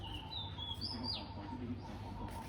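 Faint birds of several species chirping in the distance in a forest, a few thin high calls and a short rising tweet over a steady low outdoor hum.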